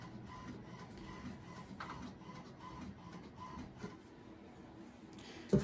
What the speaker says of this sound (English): I'm going to go over to the sewing machine and just zigzag along that edge right there